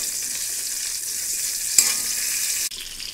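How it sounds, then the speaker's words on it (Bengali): Onions fry in hot oil in a kadai, giving a steady, close hiss of sizzling with a brief clatter midway and a slight drop in intensity near the end. "পেঁয়াজটা ভাজবো লাল লাল করে"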